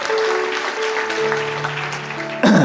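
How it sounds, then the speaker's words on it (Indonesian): Church congregation applauding with steady broadband clapping, a sustained tone ringing beneath, and a sharper burst of claps right at the end. "Kasih tepuk tangan untuk Tuhan Yesus"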